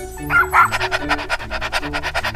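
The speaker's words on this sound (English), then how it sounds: "Dog." A couple of short, sharp dog barks up close, followed by rapid, rhythmic panting.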